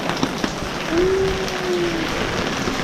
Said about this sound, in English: How are you enjoying the rain, my love?